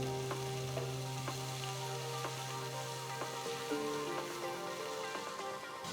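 Finely chopped garlic, ginger and green chilies fry in hot oil in a pan, giving a steady, dense sizzle with a few soft scraping and stirring knocks throughout.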